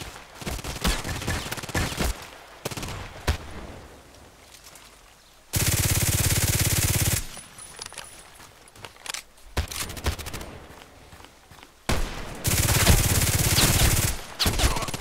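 Gunfire in the online shooter game Contract Wars, with sharp single shots, scattered bursts and two long sustained stretches of automatic fire, loud and close throughout.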